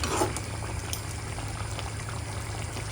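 A pot of beef curry simmers steadily, giving off a continuous soft bubbling hiss with faint pops, close by and without any talk.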